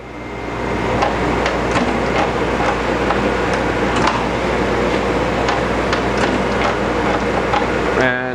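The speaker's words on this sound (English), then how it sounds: "Actually, this is surface grinding." A surface grinder works through its feed cycle with a loud, steady machine drone and a series of evenly spaced sharp ticks and knocks, heard close; a voice speaks briefly over it.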